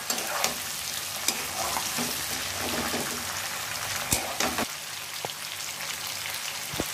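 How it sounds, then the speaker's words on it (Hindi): Potato, cauliflower and green chillies fry and get stirred in a pan, giving a steady close sizzle with occasional sharp clicks of the spatula against the pan, and no talking. "इसी स्टेज पे ना हम लोग जो हरी मिर्च रखे थे वो सारे इसमें डाल देंगे और एक मिनट के लिए इसको फिर भून लेंगे"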